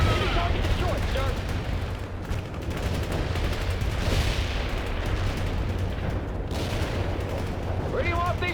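Dense gunfire and artillery in the strategy game World in Conflict, continuous crackling shots and rumbling blasts layered over a deep steady drone, with game voices speaking over the battle.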